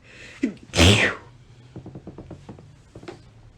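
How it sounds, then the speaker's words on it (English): A single loud, close human sneeze bursts out after a short inhaled catch, followed by faint light tapping and small rustles. "literally just sneezed"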